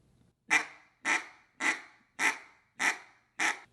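Six short, soft duck quacks in an even rhythm, each a brief nasal burst with a clear pause between, close and alone.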